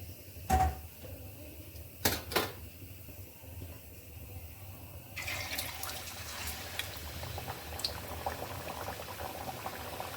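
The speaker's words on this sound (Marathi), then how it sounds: "दुसरा एक वडा आपण टाकलेला त्यामध्ये तेल चांगलं गरम झालं ना की वडे छान एकदम आपोआप वर येतात तेलामध्ये" Chicken vada dropped into hot oil fries with a steady bubbling sizzle that swells partway through after a few sharp knocks at the start, close and continuous.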